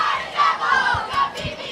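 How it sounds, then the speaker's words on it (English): High school student section crowd roaring and chanting at a varsity football game, a sustained massed cheer with a few rhythmic thumps, heard from a distance in the stands. "got beat by the Devils cheer. Maybe you can hear that in the background here."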